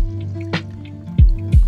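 Thick homemade liquid laundry soap poured into a container, giving two or three close, loud glugging drips and wet plops over a faint background hum.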